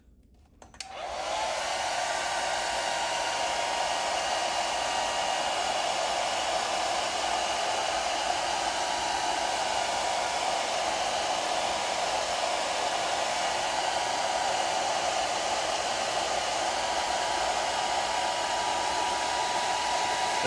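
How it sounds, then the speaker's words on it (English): A hair dryer switches on and blows steadily at close range, a loud continuous whooshing hum that holds constant throughout. "Now, this here with the hair dryer, let's dry it real quick."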